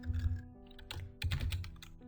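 Keys on a computer keyboard click in quick, uneven bursts of typing as code is entered for a Unity 5 platformer game; faint and close, with no talking.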